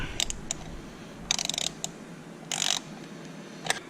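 Ratchet wrench loosening 11 mm studs on a 6.0 Powerstroke diesel engine during injector replacement, quiet clicking ratchet bursts in short irregular runs with pauses between.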